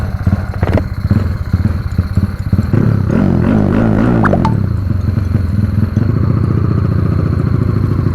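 Yamaha 110i motorcycle with a 76/11 4-valve engine and dual reed valves, heard up close while ridden, starting with a clattery idle and then revving hard into a loud, sustained drone.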